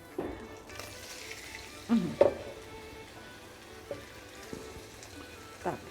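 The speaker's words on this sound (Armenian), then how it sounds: "Հիմա շատ արագ պետք է սրան տապակենք։" Meat frying fast in a pan over a strong flame, a low, soft sizzle with a few sharper clatters of stirring, fairly quiet, with faint voices in the background.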